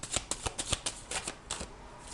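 Tarot cards are riffled and drawn by hand, a quick run of about a dozen soft papery flicks and slaps close by, with no talk.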